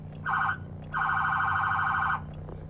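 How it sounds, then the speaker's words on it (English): Two loud electronic police car horn blasts, a short one followed by a longer sustained one, sounding close by over a low engine hum. "So I'm going to hit my horn so they can hear me."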